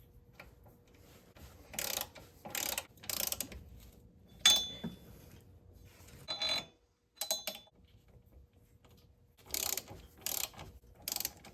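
Lug bolts on a new rear wheel bearing hub of a 2019 Ford Fiesta are spun in by hand with a ratchet, giving several short bursts of quick clicking separated by pauses, close and moderately quiet, with no talking.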